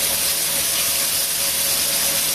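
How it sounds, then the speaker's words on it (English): Pork loin pinwheel ends pressed face down in a very hot pan give a loud, continuous, close searing hiss that holds steady throughout. "I'm going to put a face down right in the hotness. Right on the sear. I'm going to sear the ends."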